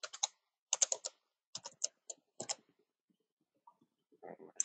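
An email address being typed on a computer keyboard: quick bursts of light key clicks in short clusters, close and clear, with pauses between groups and a soft rustle near the end.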